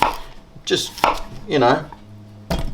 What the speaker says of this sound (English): This one's a bit bigger, I'll cut that into sixths.